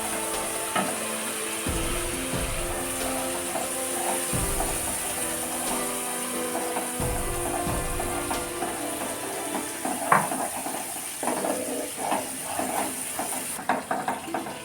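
Prawn masala with coconut milk being stirred in a pan: steady scraping and clinking of a spatula against metal over a continuous sizzle, with several heavier knocks and scrapes, close and fairly loud throughout.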